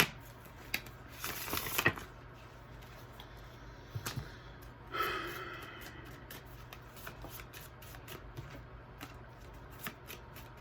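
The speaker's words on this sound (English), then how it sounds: "I'm going to shuffle the cards a little bit" Tarot cards are shuffled in two short, crisp riffling bursts, close and fairly quiet, separated by softer handling and a near-silent background.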